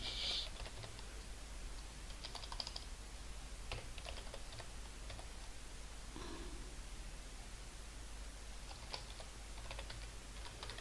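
Quiet, irregular keyboard typing with scattered key taps over a steady hiss, no voices.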